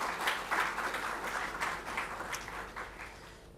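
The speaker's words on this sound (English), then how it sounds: "please welcome them with huge round of applause" A seated audience gives a round of applause at a Foundation Day celebration, a soft, steady patter of many hands clapping that stays faint throughout.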